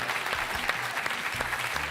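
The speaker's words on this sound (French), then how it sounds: "Faudrait qu'on applaudisse Marie, votre fille." A studio audience on a French midday television quiz show applauds a contestant's daughter, a dense, steady wash of clapping with a few sharper claps standing out, filling the short moment without pause.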